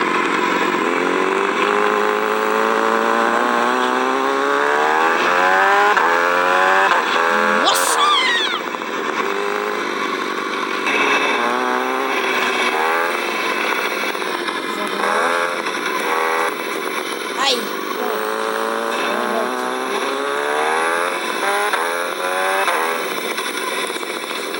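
A video-game motorcycle engine drones steadily throughout, its pitch climbing and dropping with repeated throttle and gear changes, while a voice talks over it.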